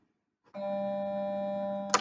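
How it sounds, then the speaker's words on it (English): A school bell rings alone for about a second and a half, a steady loud electric tone that starts abruptly after a brief silence and ends with a sharp clank. "I know the bell went"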